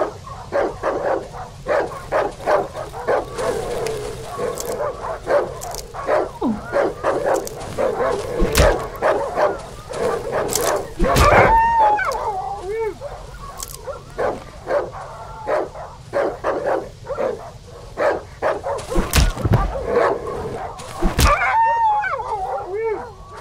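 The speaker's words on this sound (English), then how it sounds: "Is there gonna be a lot of dogs here? That's a lot of dogs." Dogs in the horror game Darkwood bark, yip and whimper in frequent overlapping bursts, close and loud, with several animals sounding at once over a dark ambient drone and occasional sharp impact hits.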